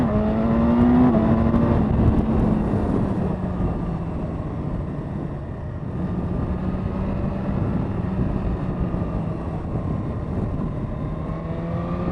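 A 2017 BMW S1000RR motorcycle engine pulling away on a test ride, a steady loud drone with rising and falling revs and a brief higher rev early on, continuous throughout.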